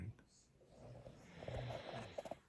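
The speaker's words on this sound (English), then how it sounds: "That one's snoring." A sleeping dog snores softly nearby, with low rasping breaths rising and falling in uneven rhythm, plus a few quick snorts near the end in a quiet room.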